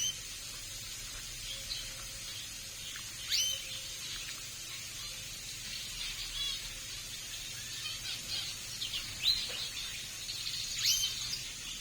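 Birds in an aviary where parrots and finches are kept, chirping faintly and intermittently over a steady insect-like hiss and low hum, no talk.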